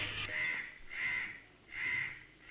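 Crows caw three times in a film scene, each caw drawn out and harsh, repeating at a steady pace and fairly close, with no talk over them.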